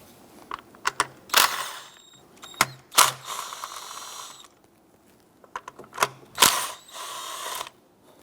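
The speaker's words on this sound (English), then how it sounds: "We're going to remove our ignition coils. 3 10mm bolts there." Close, crisp ratchet clicking comes in several short bursts with brief pauses as 10mm bolts are removed from the ignition coils of a 2011-2021 Jeep Grand Cherokee 3.6L V6.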